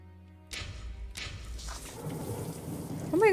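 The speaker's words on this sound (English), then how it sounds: "We actually witnessed a rain." Rain and thunder in the Sherlock Holmes video game: two sharp thunder cracks a moment apart, followed by a steady rainfall that builds and grows louder, with no talking.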